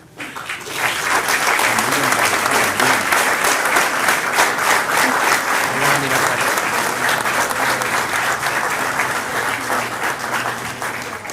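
A crowd at a museum's 30th anniversary award ceremony in Villa Ángela applauds loudly, the clapping swelling after a brief quiet start and staying strong and steady, with faint voices mixed in beneath.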